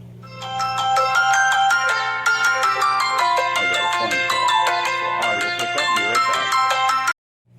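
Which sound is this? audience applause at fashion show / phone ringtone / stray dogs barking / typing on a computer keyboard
phone ringtone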